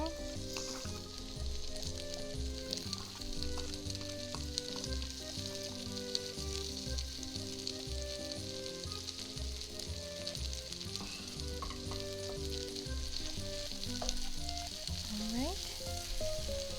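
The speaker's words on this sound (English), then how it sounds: "now I'm going to actually add the onions." Onions frying in a pot on a stove set to medium-high for one-pot pasta, a steady close sizzle with utensil scrapes and soft clinks throughout, with background music playing over the cooking.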